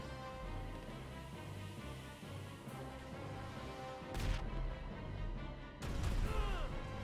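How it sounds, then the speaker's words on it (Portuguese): Gunfire in the video game GTA 5 during an alien apocalypse scenario: two sharp, loud shot bursts stand out over a continuous low rumbling game backdrop, with no talk heard. "Caraca, da onde veio esse tiro,"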